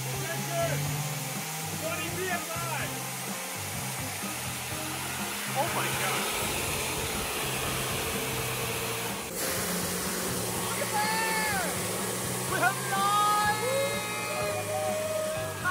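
A Tesla bladeless turbine runs steadily on air from a compressor, producing a loud continuous rushing whir with tonal whines that rise and shift over its length, while a compressor drones underneath.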